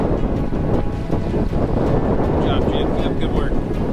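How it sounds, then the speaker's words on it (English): Strong wind buffeting the microphone and rushing sea swells around a sailboat running downwind in the British Virgin Islands, loud and continuous with a few faint higher whistles. "These seas and this wind would not actually be very much fun upwind. Downwind, it's lovely."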